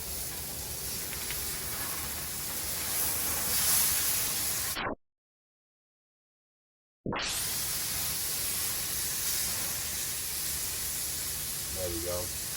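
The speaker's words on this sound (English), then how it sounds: "It's been about 3 minutes that this steak has been searing on this side." A ribeye steak sears on a smoker, giving a steady soft hiss and sizzle that drops out into a brief silence midway and then resumes at a similar level.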